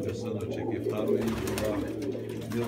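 Pigeons cooing around an evening dovecote, soft repeated coos mixed with outdoor background noise and a voice speaking over them.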